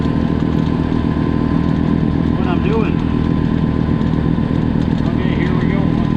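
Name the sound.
tractor engine running while clearing deep snow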